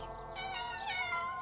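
A cartoon kitten lets out a drawn-out, wavering meow, close and clear, rising and falling in pitch, alone without speech.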